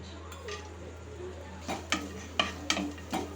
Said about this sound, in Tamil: நல்லா நெய்யில் வறுத்துக்குங்க